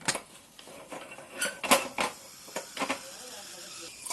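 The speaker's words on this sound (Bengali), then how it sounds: "এবার আমি মুড়ে দিচ্ছি ঢাকনাটা" Metal lid set down onto a cooking pot holding a bottle gourd and chana dal curry, a few light clanks and clatters close by over quiet kitchen background.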